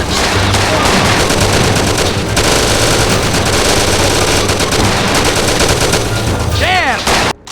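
Rapid gunfire in a shootout from the PC game Mafia, continuous loud bursts of automatic fire filling the scene, with a brief ricochet-like whine and a sudden drop near the end.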